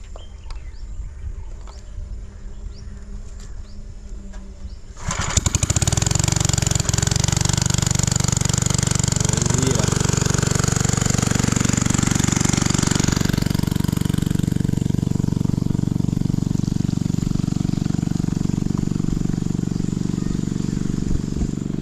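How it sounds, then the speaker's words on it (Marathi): A traditional threshing machine's engine at a farm harvest fires up about five seconds in after quiet outdoor ambience, then runs as a loud, steady, continuous drone that lasts to the end. "काका आता इंजिन स्टार्ट मारतात"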